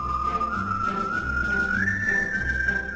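A single person whistles one sustained, slowly rising tune, clear and up close over a low background hum.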